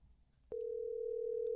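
A telephone call tone begins with a click, then holds as a steady, unbroken electronic tone at moderate loudness, with no voices over it.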